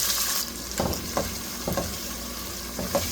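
Onions, peppers, diced tomatoes and garlic sizzle in a pan, a steady crackling fry broken by a few clattering stirs and scrapes, close and fairly loud with no talking.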